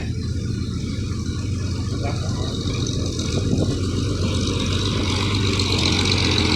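A farm tractor engine runs with a steady low rumble close by, its drone continuous and rising slightly in loudness partway through, with no voices.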